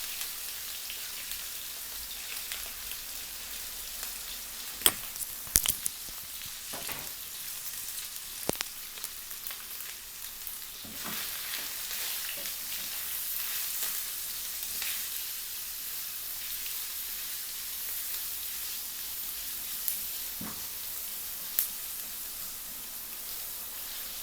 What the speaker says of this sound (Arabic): خليها تحمس شوية البصلة